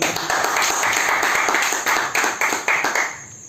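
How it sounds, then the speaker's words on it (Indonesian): At a millennial talk show in Jambi, the audience claps, starting as a dense ripple and then breaking into a few distinct rhythmic group claps before it dies away. "Tepuk tangan semua."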